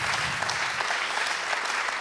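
Audience applause for volunteers called onto the stage at a closing plenary session, a dense, steady wash of many hands clapping that fills the room without a break.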